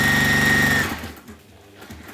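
A sewing machine stitching a seam on a waxed fabric tote bag with a seam guide runs as a steady, loud mechanical whir for nearly a second, then stops, leaving faint handling noises.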